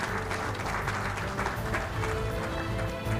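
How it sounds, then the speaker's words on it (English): Audience applause at a human rights defenders awards ceremony in Kenya: sustained, dense clapping from a large crowd, steady and loud throughout with a constant wash of hands and no talk over it. "Another beautiful round of applause, please."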